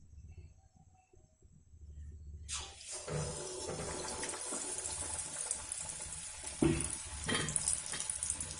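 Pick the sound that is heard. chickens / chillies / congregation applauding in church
chillies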